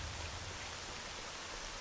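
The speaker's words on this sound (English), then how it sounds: "we'll use this rain as cover to sneak in to the bandit base" Steady rain falls in the game S.T.A.L.K.E.R.: Shadow of Chernobyl, a constant broadband hiss of drops with a low rumble underneath, unbroken and even throughout with no voices.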